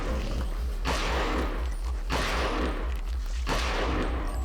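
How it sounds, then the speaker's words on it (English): Big, meaty shotgun blasts from the video game Eternal Darkness, three loud booming shots spaced over a second apart, each followed by a decaying roar, with a steady low hum running throughout. "Big, meaty gunshot sounds."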